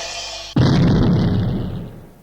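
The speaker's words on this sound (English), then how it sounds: "a load of dynamite exploding in a cave" A load of dynamite blasts inside a cave, one sudden loud boom after a brief lead-in, followed by a long rumbling reverberation that slowly decays.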